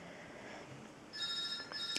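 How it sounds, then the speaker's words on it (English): A telephone starts ringing partway through, a faint electronic trill heard in the background of a quiet indoor room where someone is showing a lace book and its box. "I'll just ignore that phone, please."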